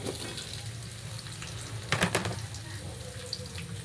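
Chicken necks fry in hot oil, giving a steady close sizzle and crackle with a brief louder burst of spattering midway.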